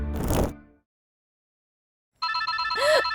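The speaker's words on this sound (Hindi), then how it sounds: "जीजू जी का फोन आया है।" A telephone's electronic ringtone starts abruptly after a short silence and rings on steadily and loudly, following a brief burst of another sound at the start.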